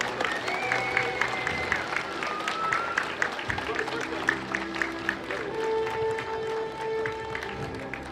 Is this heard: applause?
yes